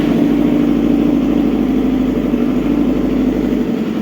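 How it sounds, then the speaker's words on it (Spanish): A four-cylinder motorcycle engine with an ignition spark fault idles loudly and steadily at close range, a continuous even rumble with no voices. "Entonces procede a encender la moto."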